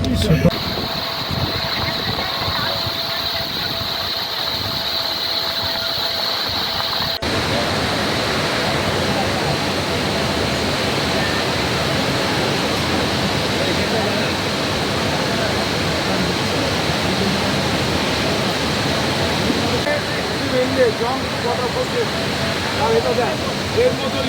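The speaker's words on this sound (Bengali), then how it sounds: "আমরা এখন আছি জাং ওয়াটার ফলসে, এটাকে নরনারায়ণ ওয়াটার ফলসও বলা হয়।" Jang waterfall, also known as Nuranang, roars as a loud, dense, unbroken rush of falling water close by, with a voice talking over it.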